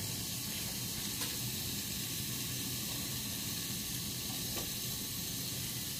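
An egg poured onto a hot dosa pan sizzles steadily, a continuous close hiss that holds at an even level throughout with no talking.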